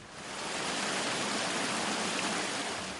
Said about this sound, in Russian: Можно спуститься вниз и осмотреть водопад снизу.